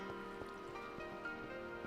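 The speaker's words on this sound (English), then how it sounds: "Oh, it's raining!" Soft, steady rain falls in Minecraft, an even low hiss under quiet tonal background music.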